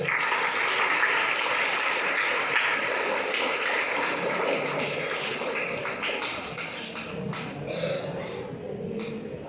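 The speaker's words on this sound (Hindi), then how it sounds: "तालियों से स्वागत करें।" Audience applause at an award ceremony closing an annual coaching session, welcoming a recipient to the stage; dense, steady clapping fills the room throughout and eases slightly toward the end, with faint voices mixed in.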